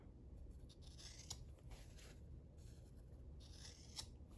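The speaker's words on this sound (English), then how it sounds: "I just like to trim those corners off because that's a lot of bulk in the corners" Scissors trim the corners off folded fabric for a coaster or potholder, giving a few soft, faint snips over a steady low hiss.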